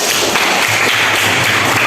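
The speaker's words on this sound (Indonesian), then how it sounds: "Oke, bagus sekali ya, tepuk tangan untuk Fatan." A classroom group claps for a student who has just spoken, a short burst of dense, even applause filling the room at steady loudness without talk.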